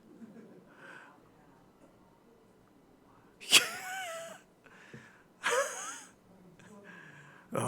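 A cat that wandered into a church gives several loud, close meows in separate bursts, with quiet murmuring in the background between them.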